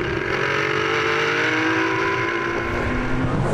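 GT race cars including a Corvette, BMW and Porsche circuit at Assen, engines roaring loud and continuous with shifting pitch as they pass close by, no voices.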